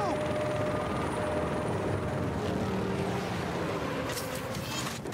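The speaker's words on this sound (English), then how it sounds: "He's got an attack chopper!" An attack helicopter from the Batman: Arkham Knight video game drones steadily with a continuous rotor rumble, loud and close, while voices speak over it.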